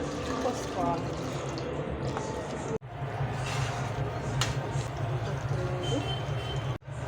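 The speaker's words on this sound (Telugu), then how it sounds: "జస్ట్ నీళ్ళని మీకు ఎంత గ్రేవీ కావాలో అంత పోసుకోవాలి" Water poured into a simmering Andhra-style gravy curry in a home kitchen, a steady liquid wash under continuous nearby talk, with two brief dropouts.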